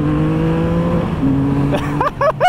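A 2022 Triumph Rocket 3 R Black motorcycle engine runs close by with a steady, throttled-up drone, and a voice cuts in briefly near the end.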